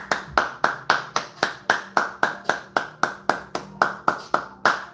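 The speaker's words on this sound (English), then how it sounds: "Extended round of applause for 25 years with your significant other." Steady rhythmic clapping, roughly three claps per second, crisp and close, as if from a small group clapping in time rather than a large audience.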